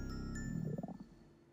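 A low, gurgling stomach rumble from a hungry person in the horror adventure game Otogirisou: Rebirth, a short wobbling growl that swells and fades over about a second, heard alone and fairly quiet.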